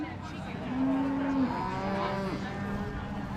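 A head of cattle at a beef breeding show lets out one drawn-out, moderately close moo that swells and then trails off, with faint arena murmur behind it.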